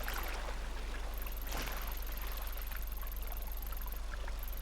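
A motorboat in the GTA 5 video game runs with a steady engine drone under constant rushing, splashing water, loud and continuous throughout with no talking.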